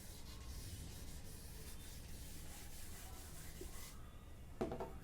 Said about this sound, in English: so I'll just rub this off so that you can easily